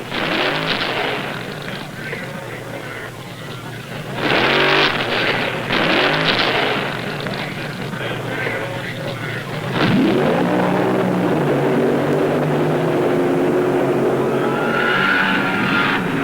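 A funny car drag racing run, the Plymouth Rapid Transit System's Pineapple Cow driven by Butch Moss, roars loud and sustained with surging revs and a hard full-throttle blast, under crowd and announcer talk.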